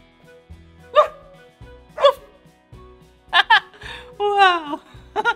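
People mimic a dog's barking in a playful children's sign-language animal lesson: several short, loud woof-like voiced bursts spaced about a second apart, over a quiet background hum, ending with a cluster of higher yipping calls.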